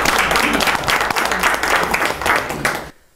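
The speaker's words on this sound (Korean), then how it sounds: "박수 한번 쳐요." A crowd claps together at the opening ceremony of a green remodeling centre, loud and close, with rhythmic surges in the clapping before it stops abruptly into near silence.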